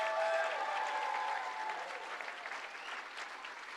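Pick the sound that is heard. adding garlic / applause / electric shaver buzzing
applause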